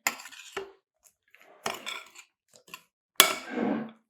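Chopped pistachios being mixed into biscotti dough in a bowl, several separate scraping clatters of a utensil against the bowl with quiet gaps between them, no speech.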